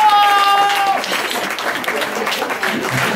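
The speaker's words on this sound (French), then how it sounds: "On peut l'applaudir d'une bonne main." A steady wash of audience applause at a live hypnosis stage show, dense and continuous throughout, with a brief tonal whine at the start and a voice faintly underneath.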